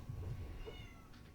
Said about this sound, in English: y'all can hear my cat meowing in the background